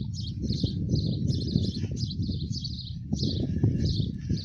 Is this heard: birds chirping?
yes